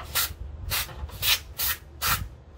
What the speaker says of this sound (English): Just give it a couple of good sprays on it.